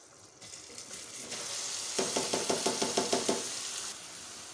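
Rice is tipped into hot sugar syrup, sharpened with half a lemon, for sweet zarda. A rising hiss and bubble build, then about a dozen quick rhythmic scrapes of stirring follow close up, with no talking.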